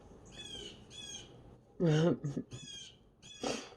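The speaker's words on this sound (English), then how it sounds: "Y'all hear the birds?" Bird calls sound in short harmonic bursts, a few repeated squawks with pauses between, one much louder call in the middle.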